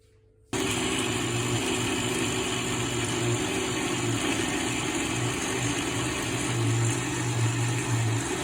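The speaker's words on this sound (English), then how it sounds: "If you want it nice and smooth, you can keep blending in." A kitchen blender runs steadily, blending tomatoes and onions into a smooth purée for herbal ice cubes: a loud, continuous whirring motor with a rough grinding texture that starts abruptly and holds for the rest of the clip.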